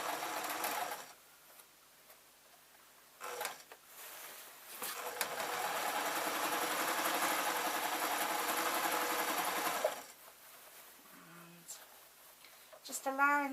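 Domestic sewing machine stitching a fleece artist's smock, running in a long steady whir for several seconds, with short bursts before and after and a person speaking in the pauses.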